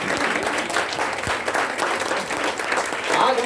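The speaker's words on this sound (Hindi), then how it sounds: "तालियां बजाते रहें दोस्तों" Sustained audience applause at a seminar hall, dense continuous clapping at steady loudness with voices mixed in.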